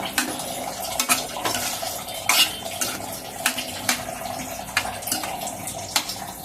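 A ladle stirs sweet pumpkin curry, Guntur style, after water has been added to the pot, with repeated close metallic clinks and scrapes against the pot over a wet sloshing sound and no talking.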